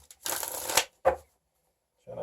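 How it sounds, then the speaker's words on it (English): Rider Waite tarot deck being shuffled by hand, a dense riffling burst lasting about half a second followed by a shorter second shuffle, close and crisp, with brief talk resuming near the end. "Give a couple shuffles here."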